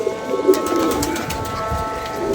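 Pigeons coo in a low, rolling murmur that runs steadily through the whole stretch, close by and moderately loud, with a faint background hum and no voices.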